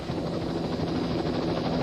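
Continuous police helicopter rotor and engine roar, loud and steady throughout, with no voices.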